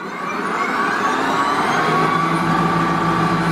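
A Wild Badger Power 40V cordless electric snow blower runs steadily with a loud, close, continuous whirring whine and drone, with no talking over it.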